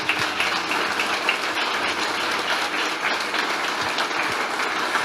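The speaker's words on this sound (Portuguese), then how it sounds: "Aplaude e glorifique o nome de Jesus." A church congregation applauds during a Sunday service, steady dense clapping that fills the room at an even level from start to finish.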